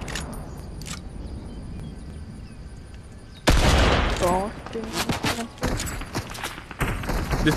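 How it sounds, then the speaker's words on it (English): Pistol and other gunfire in a Fortnite match, sparse distant shots at first, then a loud burst of rapid overlapping shots and thuds, with voices talking between them. "This pistol's not meant for that long-range combat."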